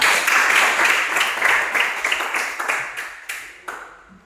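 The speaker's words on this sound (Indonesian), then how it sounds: "Terima kasih, tepuk tangan." An audience in a church classroom session applauds in a dense burst of clapping that thins out over about four seconds into a few scattered final claps, with no talking.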